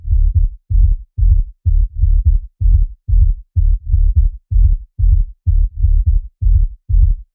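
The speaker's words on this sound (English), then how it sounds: "Sub-bass was made with Serum, and I added a couple of effects: overdrive, R-bass, EQ, soft clipper, and another EQ." A deep sub-bass synth made in Serum with overdrive, EQ and a soft clipper plays a tech house pattern of short, evenly spaced booming pulses, loud and alone.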